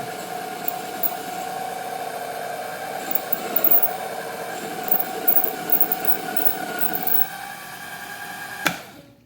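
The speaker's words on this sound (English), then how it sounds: "finish machining out this little adapter shaft here" A battery-powered machine tool running at about half speed while machining a small adapter shaft, a steady tonal hum and whine that shifts slightly, ending with a sharp click.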